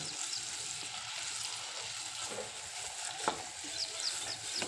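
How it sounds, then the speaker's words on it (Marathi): Masala sautéing in a clay pot for an egg curry, a soft continuous sizzle with occasional scraping strokes of a spoon. It stays fairly quiet throughout. "आपण हा मसाला परतून घेऊ"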